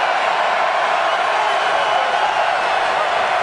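A big stadium crowd at a 2007 Patriots at Bills NFL football game roars steadily and continuously from a distance, urging on the Buffalo defense on a third down.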